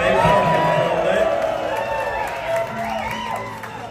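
A live club audience at El Corazón in Seattle cheers and whoops for a band after their set, a loud wash of voices and clapping that slowly eases off.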